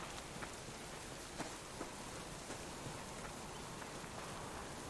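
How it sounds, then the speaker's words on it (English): Steady rain pours down evenly in the video game Subsistence, with scattered raindrop taps over a constant wash of noise and no voices. "now it's raining again."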